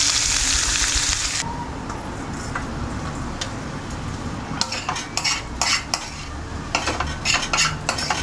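Chopped chillies are stirred and mixed in a pan in a home kitchen, starting with a loud hiss of frying, then a run of scraping utensil strokes and sharp clinks against the metal, close and busy.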